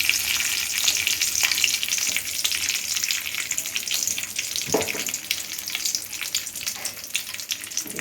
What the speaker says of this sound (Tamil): எண்ணெய் ஊற்றி கடுகு, உளுத்தம் பருப்பு போட்டிருக்கேன்.